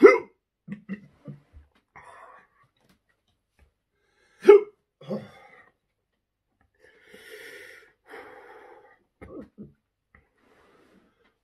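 Several sharp, isolated hiccups after chugging a hot drink, spaced irregularly with quiet gaps between them, plus some faint breathy vocal sounds.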